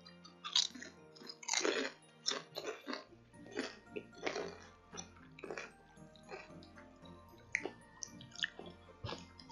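Crunchy peach-flavoured potato chips from China being chewed up close, a run of sharp, irregular crunches and bites with short pauses between them, and no talking.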